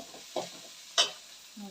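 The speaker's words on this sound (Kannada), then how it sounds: "ನೋಡಿ ಈ ರೀತಿ ಚೆನ್ನಾಗಿ ಹುರಿಬೇಕು ಎಣ್ಣೆಲಿ." Masala for a moong bean gravy frying in oil in a pan, with a few faint stirring scrapes and soft sizzling bursts, quiet and close, with no talking.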